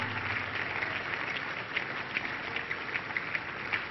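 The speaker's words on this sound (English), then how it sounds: "Keep clapping. Keep clapping." Congregation clapping together during a church praise service, a steady dense patter of many hands filling the room, fairly distant and continuous with brief louder swells.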